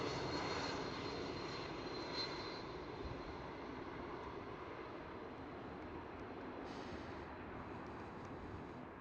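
A KLM Cityhopper Embraer E195-E2 jet departs Schiphol, a steady distant engine roar that fades slowly across the clip, with no talking.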